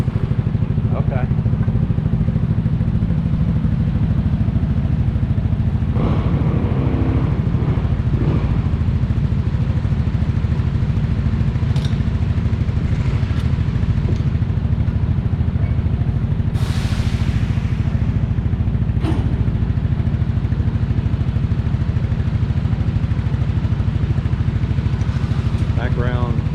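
A motorcycle engine runs steadily at a vehicle inspection station in the Philippines, a continuous low exhaust rumble throughout, with occasional clatter and people talking nearby.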